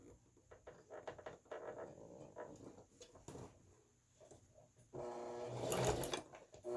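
A sewing machine with a walking foot stitches through a placemat in short bursts, running near and moderately loud before a longer, busier run of stitching toward the end.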